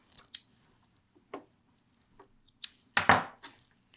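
Sharp scissor snips trimming a fabric seam allowance at a dart point during garment sewing, several short close cuts spaced irregularly with a denser cluster near the end, otherwise quiet.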